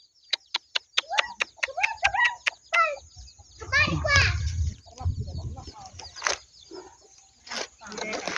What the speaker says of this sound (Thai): โอ้ลูกไก่ทำไมลูกเยอะจังเลย